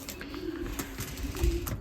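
Racing pigeons coo softly in their loft, a low steady murmur that runs throughout at a fairly faint level.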